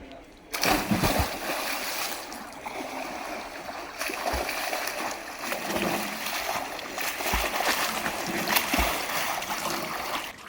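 Splashing and sloshing water in a swimming pool as someone swims clumsily, a continuous churning wash with sharper splashes, close and fairly loud; talk is faint or absent.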